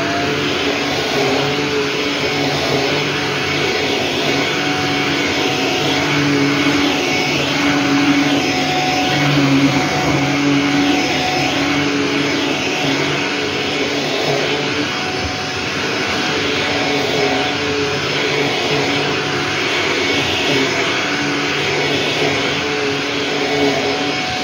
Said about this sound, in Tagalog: makikita nyo kung paano ko i-vacuum ng mabilis